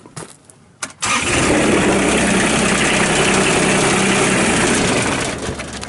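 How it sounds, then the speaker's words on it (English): A 2006 Kubota RTV900 side-by-side UTV with a Kubota D902 three-cylinder diesel engine cranks and fires after a second of quiet, then settles into a loud, steady, close idle for the rest of the clip. "this is going to be powered by a Kubota D902, three-cylinder diesel engine, starts and runs excellent"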